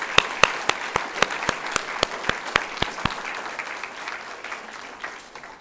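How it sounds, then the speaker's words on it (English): A community event audience claps loudly and briskly at close range, with sharp individual claps standing out at first. The applause then thins into a softer, scattered patter as it fades. "I want you to give yourselves a round of applause for the last 2 days."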